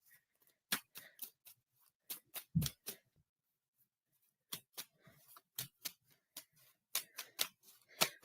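Tarot and love oracle cards handled on a table, giving a string of crisp, close clicks and snaps in irregular bursts with a quiet pause midway, no talking.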